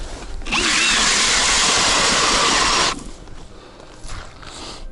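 A powered ice auger bores a fishing hole through thick lake ice, a loud, steady grinding whir for a few seconds that cuts off abruptly, leaving quiet outdoor ambience afterward.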